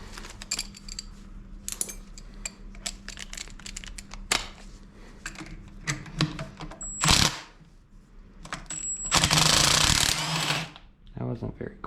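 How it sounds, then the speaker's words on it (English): Power drill running in short bursts while a 2001 Miata six-speed transmission is taken apart, with loud broadband whirring spells near seven and ten seconds among clinks and handling of tools and parts. "let's use the drill."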